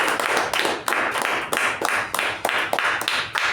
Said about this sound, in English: With a huge round of applause, please welcome the MC of our day